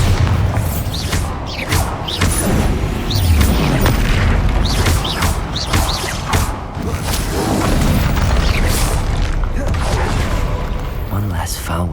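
A Bombarda spell explosion in the video game Hogwarts Legacy, heard as heavy booms and thudding impacts inside a constant loud rumble of combat, with game voices speaking over the din.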